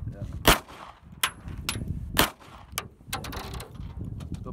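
A PT92C pistol fires at shotgun shells outdoors, giving a quick irregular string of about seven or eight sharp, loud gunshots, with short crackling tails between them.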